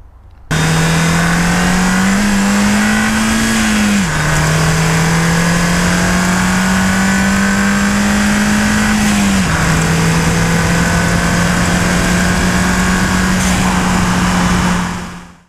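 A Ford Fiesta ST-2 with a 1.6 litre turbocharged engine, Mountune MP215 upgrade, revs loudly and up close, holding a steady drone that climbs in two surges, each dropping briefly as the pitch falls, then easing off at the end.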